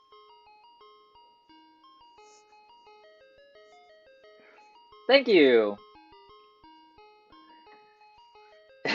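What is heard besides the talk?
ice cream truck jingle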